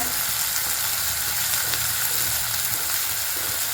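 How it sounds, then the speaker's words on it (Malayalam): Washed coriander seeds sizzle and crackle loudly in a hot kadai, a steady dense frying hiss that runs without a break, with no voices. "ഞാൻ മല്ലി നന്നായിട്ട് കഴുകി എടുത്തതാണ് അതുകൊണ്ടാണ് കേട്ടോ ഇങ്ങനെ ഒരു വല്ലാതെ ഒരു ബഹളം കൂട്ടൽ"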